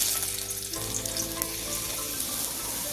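Cumin and garlic hit hot oil for paneer bhurji, a loud bright sizzle that flares and then settles into a steady crackle, with faint tonal ringing underneath and no talk.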